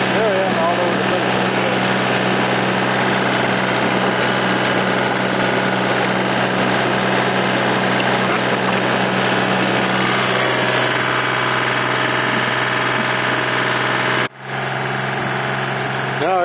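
A snow blower engine runs steadily at close range during snowstorm cleanup on a sunny day, a continuous droning hum that cuts out abruptly near the end and then resumes, with no talk.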